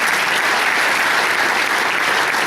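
A seated audience gives sustained, loud, steady applause for the presenters, a dense continuous patter of many hands with no pauses.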